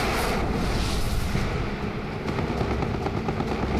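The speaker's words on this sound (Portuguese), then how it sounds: "Os 2 aviões atingem o alvo." Two kamikaze planes striking their target, heard as a dense, rumbling wall of explosive blast noise that stays loud and chaotic for the whole stretch.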